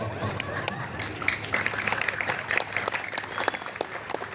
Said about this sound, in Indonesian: Udah mau tepuk tangan sing banter ya.